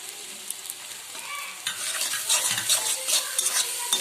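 Boiled dried fish (shutki) stirred into a spice masala in a pan, starting quiet and then rising into a bright sizzle with brisk scraping and clinking of a spoon against metal, close up and without voices.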